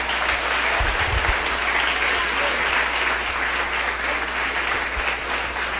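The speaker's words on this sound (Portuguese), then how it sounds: "Pode aplaudir o Messias." Continuous applause from a church congregation during an evening blessing service, dense clapping that holds steady throughout with a low hum beneath it.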